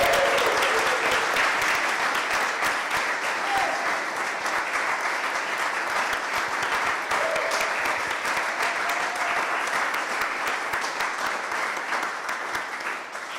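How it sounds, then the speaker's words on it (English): Sustained audience applause at a live music event at the Horniman Museum, steady dense clapping filling the room with faint voices and whoops mixed in, tapering slightly toward the end. "everyone give a big hearted round of applause to all of them"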